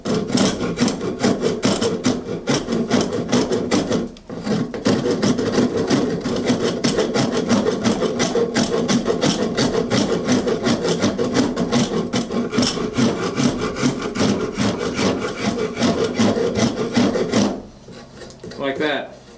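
A rasp files the top edge of a wooden table leg for a tilt-top pedestal table, a steady, close scraping stroke after stroke that runs almost continuously, stops briefly once, then ends with a short quieter scrape.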